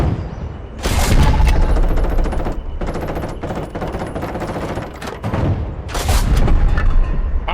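Tank battle in War Thunder, with bursts of heavy gunfire and booming shots from tank weapons arriving in loud clustered volleys separated by short lulls, dense and close with no voices.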